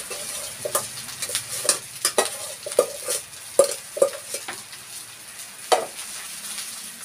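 Fried rice frying in a pan, a sizzle with repeated scraping and tapping of a spatula against the pan, close and moderately loud, with no talking.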